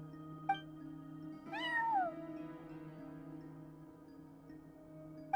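A cartoon cat in Genshin Impact lets out a single clear, rising-then-falling meow over a steady hum of game background music, with small chime-like blips at either end.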